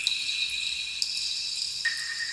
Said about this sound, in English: It's way too many fucking water drops, you know?